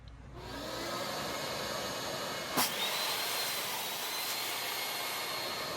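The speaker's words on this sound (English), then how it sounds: "I'll be using my crosscut sled to make the initial cuts." A table saw with a crosscut sled runs while cutting cherry wood, making a steady, close, droning whine throughout, with one brief sharp tick partway through.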